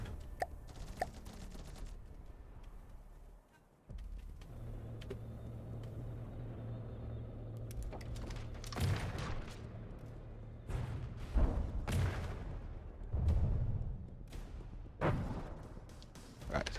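Turret guns and a nose cannon fire in the vehicle combat game From the Depths, a run of sharp, loud bursts and booms late in the clip over a steady engine rumble, with no talking.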